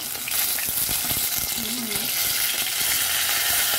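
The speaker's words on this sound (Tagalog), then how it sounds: "Piniritong isda." Fish sizzles in hot oil in a pan, a steady loud frying hiss running throughout with small crackles and a faint voice murmuring briefly in the middle.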